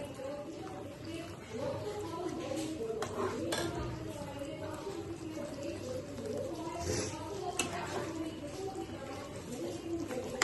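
Cornflour slurry stirred into baby corn in a pan, with repeated spoon clinks and scraping against the metal over a low bubbling hiss, close by, with a voice talking in places.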